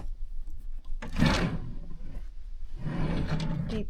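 Two wooden scraping slides, one after another, like a deep drawer being pulled open and pushed shut, close by, in a balcony stateroom on the Cunard ship Queen Elizabeth.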